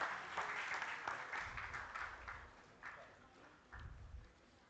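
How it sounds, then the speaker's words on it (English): Audience at a renewable energy seminar claps in a burst of applause that swells and then tapers off, with irregular hand claps, fairly faint and distant. "Let's have a huge round of applause"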